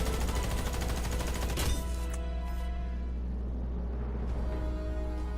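Gunfire in the shooter game Warface, a rapid rattling burst of automatic shots, loud and close, ending in a sharp crack before fading into a low lingering rumble.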